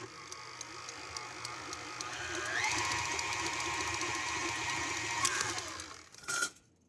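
Electric mixer beating butter and sugar for shortbread: a motor whine ramps up to a steady high-speed whir with clicking beaters, runs evenly, then winds down before a brief clatter at the end.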